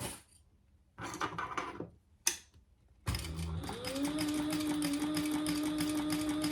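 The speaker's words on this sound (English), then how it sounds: "this is top stitching, so make sure you have plenty of bobbin" A sewing machine top stitches vinyl for a crossbody bag: a few short handling rustles and a clack give way to a steady, rapid mechanical stitching whir that runs close and loud to the end.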